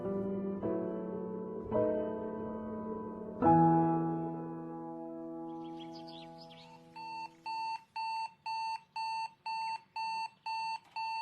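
An alarm clock set for a 5 a.m. start rings out in a steady series of evenly spaced electronic beep bursts, loud and close, after a few soft sustained music notes fade away.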